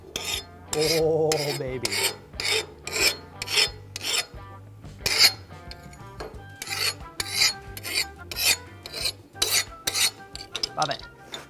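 A metal file rasped along an axe blade forged from hundred-year-old steel to test its hardness, a series of bright scraping strokes close by, and a voice speaks briefly near the start.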